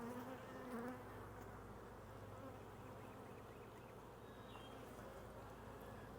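Steady, close insect buzzing from a mass of bees, a continuous droning hum that holds evenly throughout.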